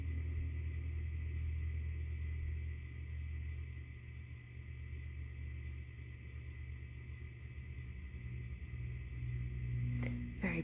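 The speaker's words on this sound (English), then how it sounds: "I got trucks going past my house" Trucks rolling past a house make a low, steady rumble that swells and eases across the span, heard from indoors at a moderate distance, with a short sharp knock near the end.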